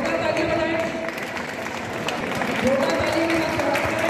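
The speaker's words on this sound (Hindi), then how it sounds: "जोरदार ताली बजाएं," Loud, sustained applause from an audience at a name-announcement event, steady dense clapping throughout with a faint voice over a sound system underneath.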